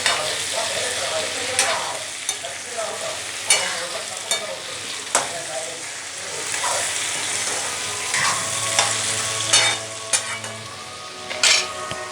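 Bottle gourd fries in a pan as a spoon stirs it, a steady sizzle broken by repeated scraping strokes and soft clinks every second or so, close and fairly loud, with no talking.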